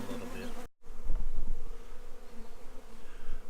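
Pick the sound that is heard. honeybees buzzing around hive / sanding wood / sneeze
honeybees buzzing around hive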